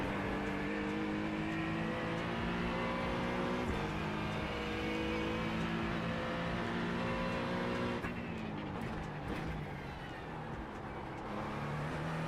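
A car's engine in a racing video game drones loudly and steadily, its pitch rising through gear changes with a noticeable shift partway through, with no one talking over it.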